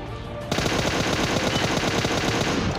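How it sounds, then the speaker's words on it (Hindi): Sustained automatic gunfire in the PUBG Mobile video game starts abruptly and rattles on as a steady, rapid, loud stream of shots with no talking over it. "इतने में मुझे लेफ्ट से कुछ फायर साउंड आते हैं लेफ्ट वाले कंटेनर पर से"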